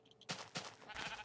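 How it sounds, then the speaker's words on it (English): A sheep bleating in Minecraft, two or three short wavering bleats in quick succession, close and clear, with nothing else around them. "There's a sheep."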